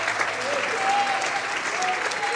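Steady applause from a church congregation during a sermon, a dense wash of clapping filling the room without pause.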